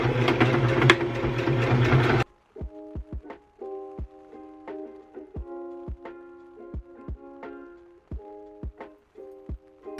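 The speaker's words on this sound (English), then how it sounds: "I'm just going to do a straight stitch as close to the end as possible all around the brim of this hat." A sewing machine runs a straight stitch around the brim of a reversible bucket hat. A short burst of noise gives way to uneven runs of close, thudding stitches over a faint motor whine, with brief pauses between runs.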